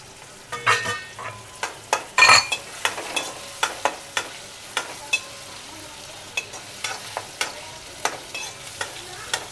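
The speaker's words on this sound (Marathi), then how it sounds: "लसूण पण मस्त परतून जाणार त्याच्यात" Garlic frying and being stirred in a pan for a quick home dinner of dal, rice and cluster beans, a steady sizzle broken by repeated sharp scraping strokes of a spoon against the pan.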